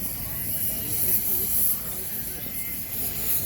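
Pressure cooker on a wood-fired chulha releasing a steady, loud hiss of steam throughout, broad and continuous with a faint background murmur of voices, at a village fair with mutton curry cooking.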